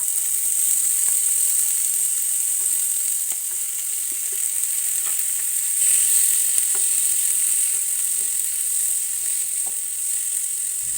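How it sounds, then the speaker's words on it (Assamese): Chopped tomatoes fry for egg curry in a pan, giving a continuous, even sizzle with faint crackles and stirring clicks throughout and no voices. "বিলাহীখিনিও ভালদৰে ভাজি ল'ম।"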